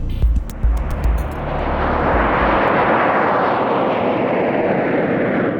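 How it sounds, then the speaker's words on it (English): CT-114 Tutor jets of the Canadian Snowbirds aerobatic team taking off in a nine-jet formation at an air show, a loud swelling jet roar that builds into a sustained broad rumble after a few low thumps at the start. "Taking off together in a spectacular Diamond 9 formation are the CT-114 Tutors of the Canadian Snowbirds aerobatic team."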